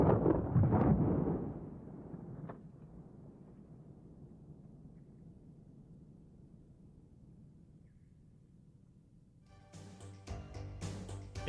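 A shotgun fires strung buckshot into ballistic gel in a single loud blast that rolls away in a long, fading echo, followed by quiet and then a few sharp mechanical clicks and clatter.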